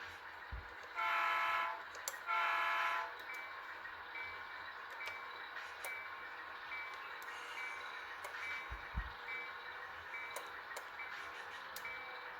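HO scale model train under ProtoThrottle control on an industrial lead, with two short bursts of electronic bell or horn tones near the start, soft clicks and a low rumble through steady background hum.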